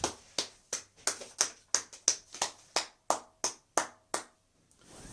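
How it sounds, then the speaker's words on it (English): About a dozen sharp, evenly spaced claps in a steady rhythm, close by, with no voices, stopping with a brief pause and a faint sound at the end. "Everybody, give her a clap."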